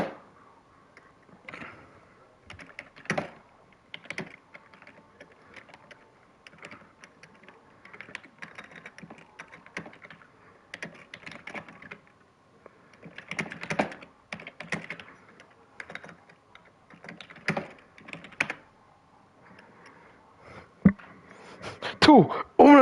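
Rapid computer keyboard typing in irregular bursts, close and moderately loud, with short pauses between flurries and a louder cluster near the end; faint low voice chatter sits underneath.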